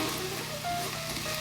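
Potatoes for a chicken pot pie cook in a pan with a steady, close sizzle and a faint hum underneath.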